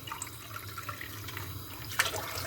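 Water being poured from a glass into a pot of chickpea tarhana soup, a soft continuous trickle and splash close by, with a brief louder splash near the end.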